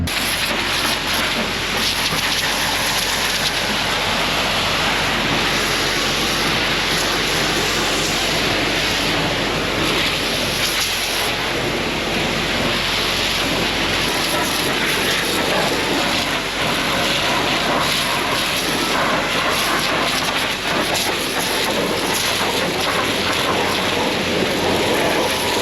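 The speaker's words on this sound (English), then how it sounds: "I'm gonna clean this bucket out with the pressure washer" A pressure washer blasts out a bucket on a hay farm, giving a loud, steady, broadband hiss and roar that runs unbroken for the whole stretch with no pauses.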